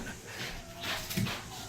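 A new puppy whimpers and pants softly at close range, with a brief louder yelp in the middle over a busy indoor background.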